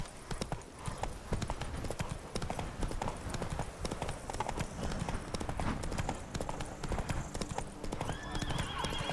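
Roach, Geralt's horse in The Witcher 3, gallops hard with a steady rapid clip-clop of hooves close up, a brief whinny mixed in over a continuous game soundscape.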